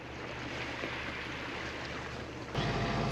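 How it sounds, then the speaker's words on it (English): Sailboat motoring at sea under engine power with no wind, a steady low engine drone mixed with water rushing past the hull, continuous and close, with a brief louder shift near the end. "Since the wind is gone and we are running the engine"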